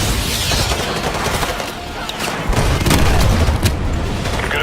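AGM missile strikes exploding in a Modern Warfare game battle, a loud continuous rumble of booms and heavy blasts with layered gunfire, no pause throughout.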